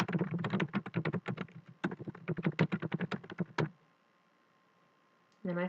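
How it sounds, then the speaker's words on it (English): Rapid keystrokes on a computer keyboard tap out a short message in a quiet room, a dense run of close clicks with a brief pause midway, then silence before one last burst of sound. "now I'm just going to type a little message to them that'll appear in the email"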